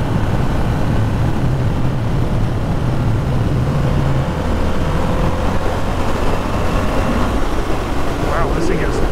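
Harley-Davidson Sportster S motorcycle with a 1250 engine accelerating hard in a 2022 first ride, a steady loud engine roar with wind rush throughout, rising in pitch toward the end.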